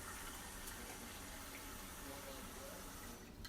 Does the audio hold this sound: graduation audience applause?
no